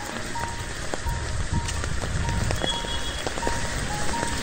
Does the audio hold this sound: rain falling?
yes